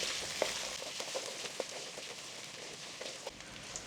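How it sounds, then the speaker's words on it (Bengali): Dried fish (shutki) and garlic frying in hot oil give a steady close sizzle with scattered crackles and pops, plus occasional soft stirring taps, no voices. "শুটকি এবং রসুন আপনার দুই থেকে তিন মিনিট জাস্ট ফ্রাই করে নিতে হবে"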